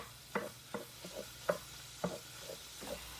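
Sausage crumbles fry in a pan for homemade sausage gravy, and a spatula taps and scrapes it roughly every half second over a soft background sizzle. The sound is close but quiet.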